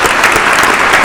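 Loud, dense applause from a comedy show audience welcoming a guest, continuous clapping throughout the short stretch.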